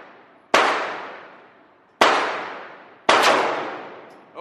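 Three sharp gunshots at an outdoor gun range, each a loud, close crack with a ringing decay, spaced irregularly about a second and a half apart.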